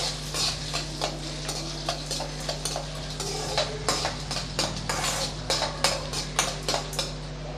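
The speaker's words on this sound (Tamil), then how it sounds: "சேர்த்து நல்லா வதக்கி விட்டுக்கலாம்" Close, steady sizzling of onions sautéing in a pan for ragi upma, with a spatula scraping and clinking against the metal in quick repeated strokes, and no voices.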